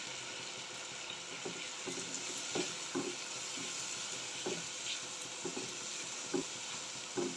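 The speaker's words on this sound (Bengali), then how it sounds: "এইদিকে সব মশলা একসাথে ভেজে নিচ্ছি" Ginger-garlic paste, turmeric and salt frying together in a pan, a soft steady sizzle broken by faint, regular scraping taps of a spoon being stirred through the spices.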